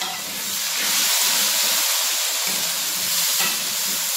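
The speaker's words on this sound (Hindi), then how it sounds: "ये जनाब हम डालने लगे हैं इसमें टमाटर और मिर्च।" Tomatoes and chillies frying in a pan, giving a continuous close sizzle and hiss with a soft bubbling underneath.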